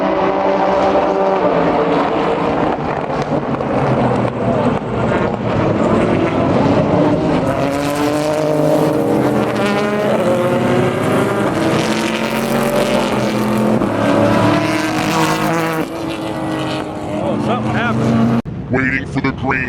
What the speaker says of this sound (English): we're going to see the start of the race here